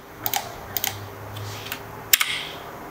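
Scattered keystrokes on a computer keyboard while drafting in AutoCAD, a few quick clicks in small bursts with a sharper tap near the end, close and moderately quiet over a low hum.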